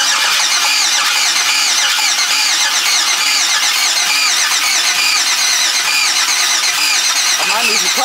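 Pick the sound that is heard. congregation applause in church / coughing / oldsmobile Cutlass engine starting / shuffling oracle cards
oldsmobile Cutlass engine starting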